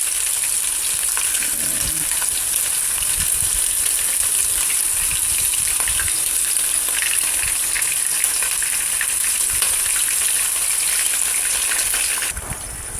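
Chicken strips stir-frying in a pan for a Gochujang stir fry, a loud, dense, steady hiss of hot oil with faint occasional stirring underneath, close and unbroken by talk.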